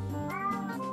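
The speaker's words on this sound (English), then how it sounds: "As soon as I heard the meow, I was like, I know whose cat that is" A hungry pet cat gives a single drawn-out meow up close, rising and then falling in pitch, clear and fairly quiet with no talking over it.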